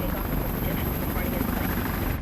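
A medical helicopter in flight carrying a trauma patient to a Las Vegas hospital, its steady loud rotor and engine roar filling the whole stretch without pause.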